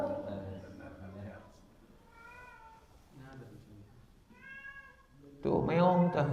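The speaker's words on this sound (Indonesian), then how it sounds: "Tuh meong tuh." A cat meows several times, with drawn-out, wavering calls spaced a second or so apart at moderate volume, then a louder burst at the end, over a quiet background.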